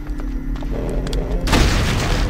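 Weapon fire in the Brutal Doom game, a sudden loud booming blast that breaks in after a stretch of quieter game noise and then keeps rumbling on.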